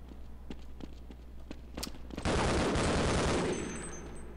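Gunfire in the video game Half-Life, a string of faint clicks and single shots followed by a sudden loud burst of rapid automatic fire that trails off.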